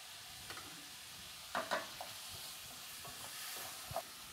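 Chopped olive paste sizzles quietly in oil in a casserole pot beside simmering stew meat, a soft steady hiss broken by a few faint stirring scrapes, close but low in level.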